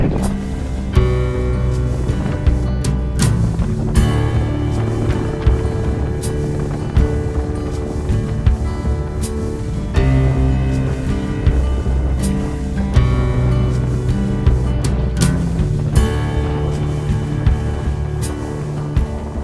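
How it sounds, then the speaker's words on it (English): Strong gusty wind roars continuously across the summit of Harrison Stickle in the Langdale Pikes, buffeting the microphone with loud low rumbling and repeated sharp bursts throughout. "It's a very windy day."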